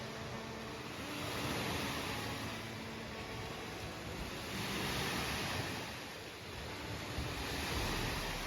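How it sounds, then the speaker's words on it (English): Small waves wash onto a sandy beach on a cloudy evening, a soft continuous surf that swells and fades in gentle surges, with light wind noise and no talking. "listening to little waves crash into the cloudy evening sunset"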